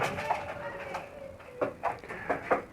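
Soft cooing and chirping from a one-day-old black pigeon squab, a few brief peeps in a row, close and fairly quiet.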